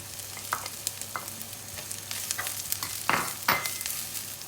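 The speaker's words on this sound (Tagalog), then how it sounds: "ihalo ko na rin yung ating radish" Radish is stirred into garlic and spices sautéing in a pan, giving a low steady sizzle broken by several short scraping stirs of a utensil, close and moderately loud.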